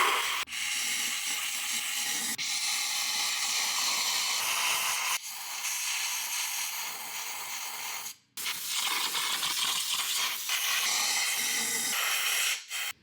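Compressed air blasting into an engine in loud, sustained hissing bursts up close, cut by a few short pauses and a brief gap midway, with no talking.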